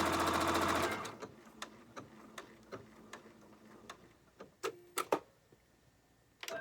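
A Janome sewing machine fitted with a circular attachment stitches a quilt in one loud, rapid burst of about a second. It then stops, and scattered light clicks and taps follow.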